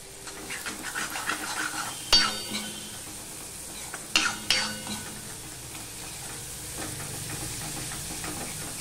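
Spice paste with garam masala being sautéed for a fish egg dish, a soft steady sizzle with a few sharp scrapes of a spoon against the pan, close and with no talking.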